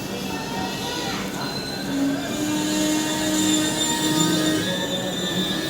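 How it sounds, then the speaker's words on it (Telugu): A train rolls steadily along the rails on a pilgrimage journey to Kashi, with a continuous rumble and a high metallic wheel squeal, with faint voices in the background. "ఇప్పుడు మన ట్రైన్ పోతుంది"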